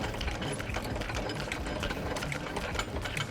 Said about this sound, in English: You grab your wind down bar, which is this, a 19mm socket on the end of it, put it inside, and you wind it out.